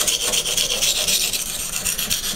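A rusty knife blade scraped back and forth across a cheap, water-soaked sharpening stone, a loud, continuous gritty rasp with quick rhythmic strokes, close up and alone.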